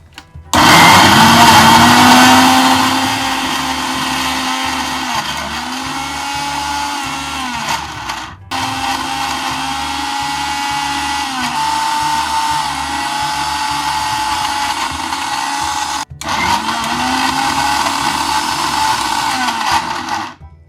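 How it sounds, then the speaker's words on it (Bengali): An electric blender whirs loudly and steadily while blending a chicken shami kabab mixture, running in three long bursts separated by brief pauses, close and alone with no talk. "এবার আমি ব্লেন্ডার করতে দিয়ে দিচ্ছি"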